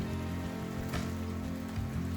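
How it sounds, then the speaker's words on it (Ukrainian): Steady rain pours down during a thunderstorm, a dense, even hiss of drops striking surfaces that stays loud and unbroken, with no distinct thunderclap and no voices. "Пішов дощ, почалися гроза та грім"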